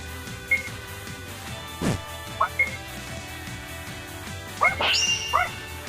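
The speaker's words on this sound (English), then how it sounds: "dogs barking" Dogs barking in Sel Mounta: Siege the Demon Castle, a few scattered yips and barks over steady game music and ambient noise, with brief louder bursts near the end.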